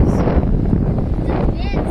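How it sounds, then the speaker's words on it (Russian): Strong, dusty wind buffets the microphone outdoors as a loud, continuous low rumble with a person talking over it. "Тут жуткий ветер с пылью."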